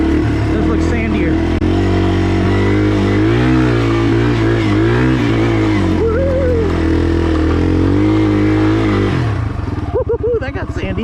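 A Yamaha TW200 motorcycle riding off-road through sand in short first gear, its engine droning loud and close with steady revs that rise and fall, then settle to a rougher, lumpier idle near the end.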